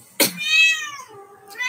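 A cat gives a long, drawn-out meow right after a sharp click, then a second meow begins. Both are close and loud with no talking over them.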